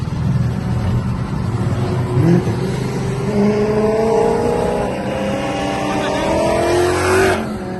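Ford Mustangs and other cars race at a car meet, engines roaring as they accelerate and shift, heard from nearby over steady crowd talk.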